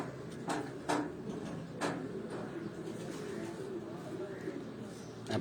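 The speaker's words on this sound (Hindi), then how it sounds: "चिड़िया वाले ते लाखे कबूतर तुहानू शौक करा रहे हैं जी" Lakha pigeons of the chiriya wala type coo in a loft, soft low murmuring cooing running steadily underneath, with a few sharp clicks and thumps and faint background voices.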